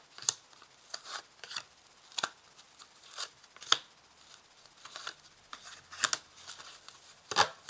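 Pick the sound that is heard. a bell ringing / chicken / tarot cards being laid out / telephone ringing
tarot cards being laid out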